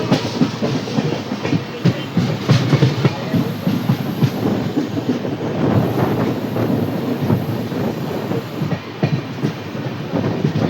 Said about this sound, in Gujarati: તો ભાઈ પાછી આપણી ગાડી લૂપ લાઇનમાં જઈ રહી છે